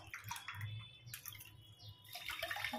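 Water is poured into a pot with sugar for syrup in a few short, quiet splashing pours with brief gaps between them, close by and faint.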